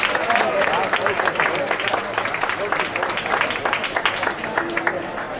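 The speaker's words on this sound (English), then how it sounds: "Let's give him a nice big round of applause and please welcome our captain, Captain Bob Oliver." A cruise ship crowd at a farewell party welcomes the captain with sustained, fairly loud applause, and talk and cheering voices mix into the clapping.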